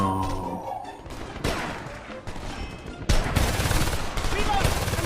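Gunfire in the shooter Homefront: bursts of rapid automatic shots crackle in clusters, loud and close, with sharp onsets and a heavy volley near the end, while someone talks intermittently.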